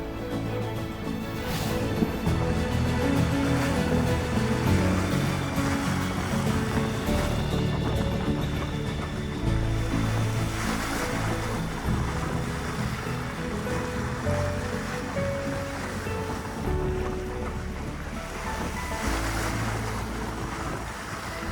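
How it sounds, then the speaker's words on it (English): A sailboat moves on a calm Pacific sea off Mexico with a following wind. A steady wash of water and waves mixes with rushing wind noise throughout, loud and unbroken, with no talking. "It's a perfect day for a sail. Just calm seas, following wind."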